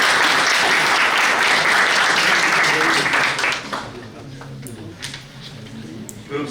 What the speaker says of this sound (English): you can back up your teams by clapping